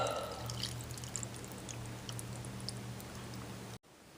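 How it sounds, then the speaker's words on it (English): Cold water poured up to the fill line of a self-heating meal container holding rice vermicelli, pickled vegetables and soup base, a steady, quiet stream that cuts off abruptly near the end. "And now the water up to the fill line."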